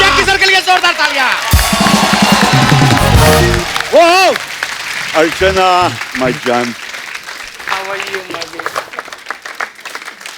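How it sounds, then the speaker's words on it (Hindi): Studio audience applause for Bollywood actor Jackie Shroff on a Hindi comedy show, loud and dense at first, then thinning as someone talks over the fading clapping and cheers. "जैकी सर के लिए जोरदार तालियां।"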